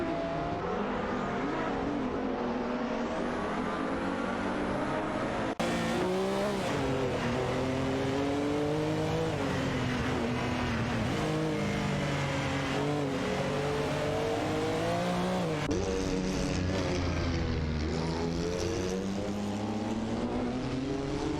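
Race car engines roar continuously in an AI racing video game, several cars revving and shifting together with rising and falling pitch, loud and close throughout, with a sudden cut partway through.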